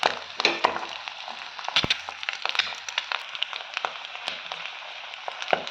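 Curry leaves dropped into hot frying oil beside eggs give a faint crackling sizzle with scattered sharp pops and spits throughout, steady and unvoiced.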